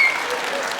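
Audience at a stand-up comedy show clapping in a dense, steady wash of applause, brief and fairly loud.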